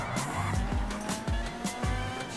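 A car sliding through a drift in a GTA V drift mod, with repeated tire squeals and skidding over a steady engine, in a few rhythmic bursts at moderate loudness.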